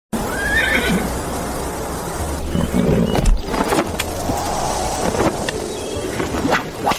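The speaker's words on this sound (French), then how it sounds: "nous allons faire une course à cheval à la montagne de l'Ouest" Horses neighing and whinnying for a horse ride to a mountain, with clip-clop hooves and a steady busy background throughout, no speech.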